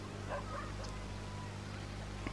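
Faint dog yips and barks rise from a dog park in the city-building game Cities: Skylines, small and distant over a steady low hum of ambient traffic.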